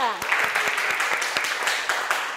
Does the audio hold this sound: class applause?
yes